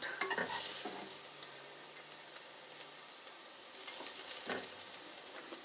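Onions sizzle steadily in a pan as they fry golden brown for a red lentil biryani, with a spoon scraping and stirring through them in a few close, crisp strokes.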